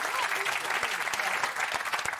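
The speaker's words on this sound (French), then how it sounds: "On peut l'applaudir." A studio audience at a French talk show applauds warmly for a young guest, a dense, steady clapping that carries on through the whole moment.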